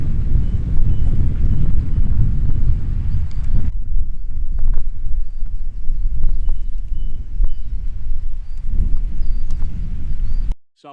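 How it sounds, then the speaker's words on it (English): Strong gusts batter the microphone on an exposed hillside above Stickle Tarn in the Lake District, a loud, rumbling buffet that eases for a few seconds midway, then surges again before cutting off. "The wind's not much better, to be fair."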